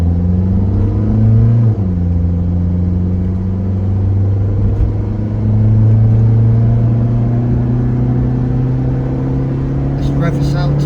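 A classic car engine revved toward full throttle at around 5,000 to 6,000 RPM while cruising near 70 mph, a loud steady droning roar that rises slightly in pitch, with cabin rumble throughout.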